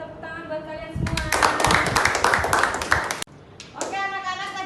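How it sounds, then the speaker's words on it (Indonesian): Students in an elementary school classroom clap for each other during a science lesson, a burst of brisk, close hand claps lasting about two seconds, with a teacher's voice speaking before and after. "Tepuk tangan buat kalian semua."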